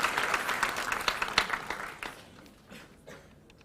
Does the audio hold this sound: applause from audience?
yes